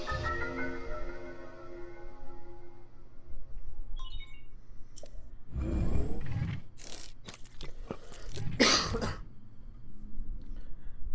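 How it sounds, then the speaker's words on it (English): A person coughs a few times close by, with two harsh bursts a few seconds apart over quiet game music and a low background hum, with no talk. "Again, sorry about the cough."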